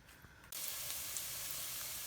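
A steady, loud sizzle of onions and garlic frying in a pan starts abruptly after a quiet moment and continues evenly, close by.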